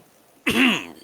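A single quick cough or throat-clear, close and fairly loud, comes after a brief quiet lead-in and trails off quickly, with no talking.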